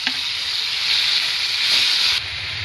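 Tomatoes tossed into a pan of softening cabbage and onions, bringing a loud, steady sizzle and hiss of frying that drops off abruptly near the end.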